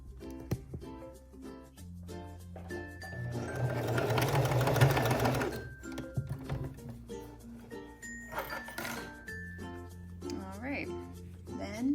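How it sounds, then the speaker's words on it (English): A sewing machine stitching, including a reverse stitch, with a fast rattling run in short bursts between stretches of someone speaking nearby. "Then don't forget to use your reverse stitch"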